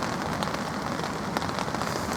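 Steady rain patters down across a lake at a carp fishing spot, a dense continuous hiss of drops, close and even throughout, with no one speaking.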